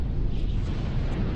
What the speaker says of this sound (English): what was that? Explosion. Something big.